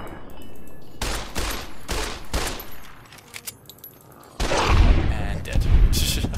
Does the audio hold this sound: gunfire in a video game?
yes